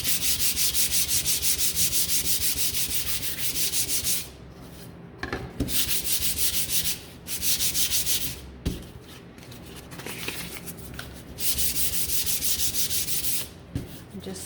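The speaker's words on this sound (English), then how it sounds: "It's dry, and I'm just going to sand it." Steady back-and-forth sanding of painted wood, scratchy and close, with several short pauses between runs of strokes.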